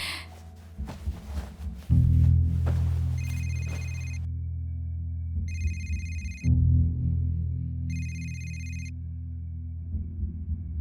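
A telephone rings in three evenly spaced electronic bursts over a loud, steady low rumble, with no voices.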